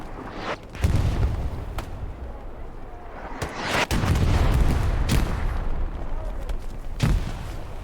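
Grenade blasts and gunfire in a nighttime Hell Let Loose match on the Foy map, with several sharp booms at irregular intervals over a constant rumble of battle.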